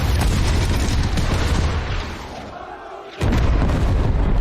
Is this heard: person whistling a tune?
no